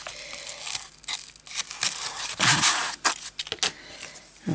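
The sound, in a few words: paper being cut and pulled apart for a junk journal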